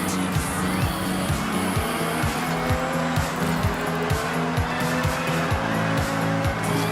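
Race car engine in Forza Horizon online racing, a loud continuous roar with rapid repeated gear-shift revs and tire squeal running throughout, close and unbroken.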